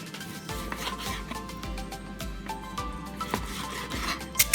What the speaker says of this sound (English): I'm going to cut this steak into strips.